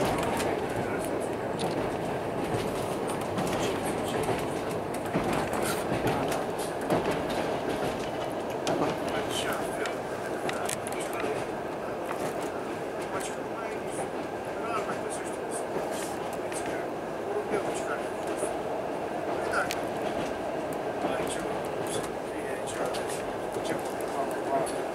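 An InterRegio passenger train, IR 1540 between Brașov and Miercurea-Ciuc, runs steadily on the rails with a constant rolling rumble and scattered clicks and rattles throughout, while voices talk faintly over it.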